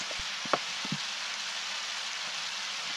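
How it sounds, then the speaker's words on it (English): Steady rain hiss across a quiet nature trail area in the Undertale video game, constant and even with a couple of soft drip-like taps early on, no voices. "It's nice to have a rainy spot away from civilization."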